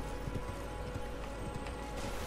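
Rapid rhythmic hoofbeats of a horse galloping in the video game Elden Ring, close and steady clip-clop under a soft wash of ambient game noise.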